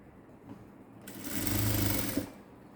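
A sewing machine stitching thread piping onto fabric runs in one short, close whirring burst of about a second, then stops.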